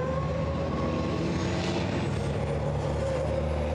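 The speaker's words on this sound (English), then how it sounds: "55 should be the first truck to get to the final corner." A racing truck from the European Truck Racing Championship roars steadily through qualifying in Hungary, a loud sustained engine drone heard from a distance without any voices.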